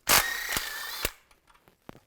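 A ratchet with a 15mm socket works bolts loose on a 2002-2009 Chevy Trailblazer, giving a few close, sharp bursts of metallic clicking followed by fainter scattered taps, with no voices.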